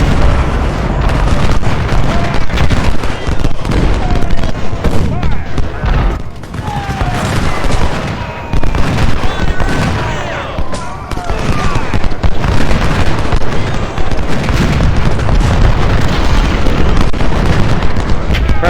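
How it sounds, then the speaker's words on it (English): Civil War artillery battle at Antietam, with cannon fire and explosions booming in a dense, continuous barrage, loud and close, with overlapping blasts and rumbling that barely lets up. "Their artillery is doing a lot better now"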